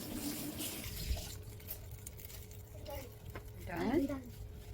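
Tap water runs steadily at home during a family cooking day, a continuous hiss and splash that swells near the end, with faint voices in the background.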